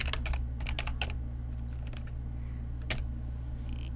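Keystrokes on a computer keyboard while VBA code is typed, a quick irregular run of sharp clicks early on, then a pause before a few more isolated taps close by.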